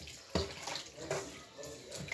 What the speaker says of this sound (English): I'm still washing so that the pepper can be washed off.